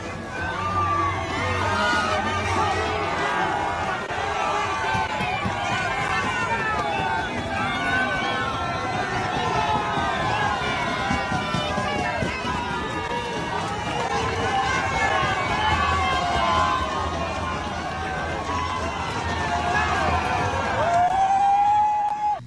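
A large roadside crowd cheers continuously along the route of the Vuelta a España bike race, a dense roar of voices and shouts with wind buffeting the microphone, while someone talks over it throughout.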